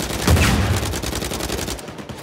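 Gunfire in Uncharted 4 during a firefight in a lost city, a burst of loud close shots followed by scattered rapid cracks and echoing reports.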